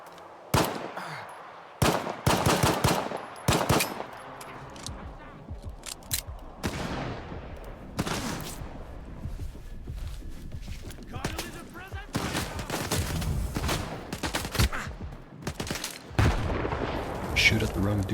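Gunfire in the STALKER 2 shooter game: sharp close shots and bursts of rapid fire, some heavy booming volleys, interspersed with quieter gaps and brief speech.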